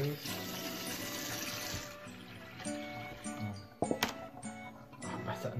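Tap water runs steadily into a sink while a child's face and nose are washed, a continuous splashing wash with a few clinks and splashes near the end, and voices talking over it.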